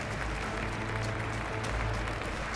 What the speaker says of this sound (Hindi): बाइडेन ने ताली इजरायली बंदूकों पर दिए ट्रंप के बयान के बाद बजाई।